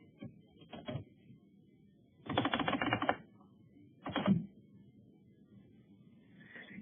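Typing a number on a calculator or keyboard comes as a few short bursts of rapid clattering keystrokes separated by pauses, close and moderately loud in a quiet room.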